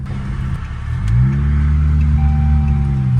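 A rebuilt Chrysler 300 built from a salvage-auction car drives on the road, its engine a close, loud, steady drone that rises as the car accelerates partway through. No one speaks.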